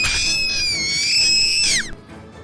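A girl in an animated horror story screams, a loud, high, sustained shriek lasting under two seconds that wavers slightly and then drops away sharply, with no other sounds.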